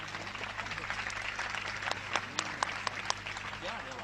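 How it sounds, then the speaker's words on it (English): An audience claps for a singer at an online Ganesha Puja gathering, a moderate, steady patter of applause with a few sharper close claps later on, under faint background sound. "We give him a big clap,"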